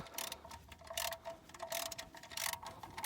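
Oil drain bolt being unscrewed on a Daewoo Lanos 1.5, giving a quiet run of quick metallic ratcheting clicks in an uneven rhythm, close by and with no talk.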